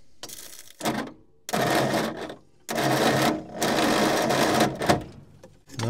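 The starter motor of an old tip truck that has sat for over ten years cranks the engine in three loud, rhythmic whirring bursts separated by short pauses, recorded up close.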